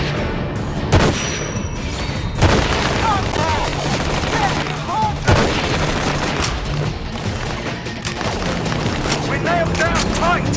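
Gunfire and explosions rattle and boom in the video game Battlefield 2: Modern Combat, with repeated sharp shots and heavy blasts over about ten seconds, loud and close, with brief radio-style voices calling out over the combat.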